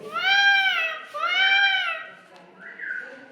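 A voice imitates a peacock call with two drawn-out, rising-and-falling wailing cries, loud and close, followed by a softer, briefer sound.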